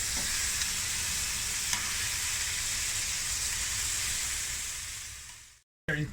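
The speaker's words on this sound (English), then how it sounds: "So I've got some shrimp marinated in chilies, lime juice, lime zest, oil, and a little bit of fresh shallot. We're just going to sear those off." Shrimp marinated in chilies, lime juice, lime zest, oil and fresh shallot sear in a hot pan with a loud, steady, close sizzle that continues unbroken for several seconds, then cuts off abruptly near the end.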